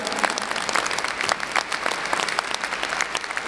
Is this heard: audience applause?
yes